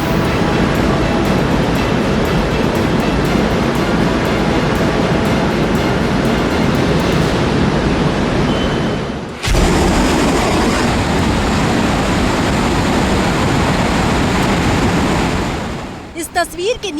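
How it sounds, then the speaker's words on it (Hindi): Roaring flood water rushing through Sikkim after a lake burst, a loud, continuous, broadband torrent with no letup, briefly dipping midway before resuming at full force. "ये सिक्किम में आए सैलाब का वो शोर है जिसे सुनकर जहन में दहशत पैदा हो जाती है।"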